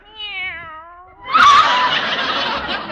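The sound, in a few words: kitten meowing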